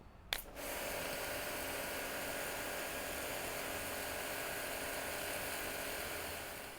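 A commercial pressure washer at an industrial machine dealer starts with a sharp click and then runs as a constant, even hiss and whine, steady and unbroken, with no talk.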